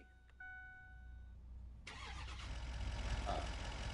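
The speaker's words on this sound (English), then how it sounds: "actually starting the engine" A vehicle engine cranks and fires up in a farming simulation game, turning over after a short electronic chime, then settling into a steady, rising idle rumble that continues to the end.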